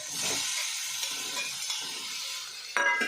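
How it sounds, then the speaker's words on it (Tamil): Fish frying with onions and chili in a pan gives a steady, close sizzle, with light stirring and a brief clink near the end; no talking. "இப்போ வெங்காயம் மிளகா வசங்கிட்டுருக்கு."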